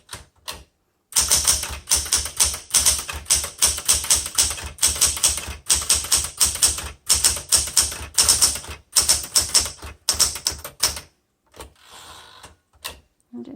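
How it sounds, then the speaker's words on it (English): A 1977 Smith Corona Classic 12 typewriter typed steadily, with loud close key strikes in fast bursts, separated by brief pauses and ending in a few sparse clacks. "Okay, I'm gonna type some more."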